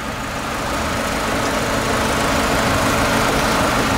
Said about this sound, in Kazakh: Мынау мотору.